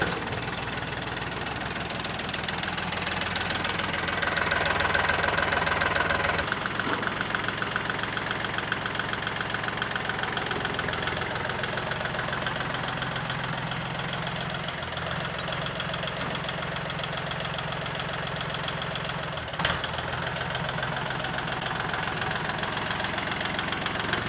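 A Kubota tractor engine starts and settles into a steady idle after a dual clutch adjustment, a continuous knocking diesel drone that holds evenly throughout, close and alone.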